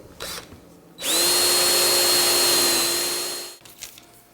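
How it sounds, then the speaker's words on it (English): A drill bores shelf pin holes in an upper cabinet in one close, loud whining burst of about two and a half seconds that winds down, with quiet handling noise before and after. "I set a depth gauge with just blue tape, and I'm just going to get these drilled."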